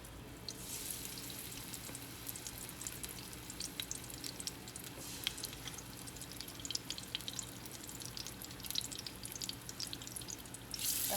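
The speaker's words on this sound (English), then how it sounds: "add my oxtails, and you want to cook them until they are brown" Oxtails browning in a pot over medium-low heat, a soft steady sizzle with scattered pops and crackles, fairly quiet and continuous with no talking.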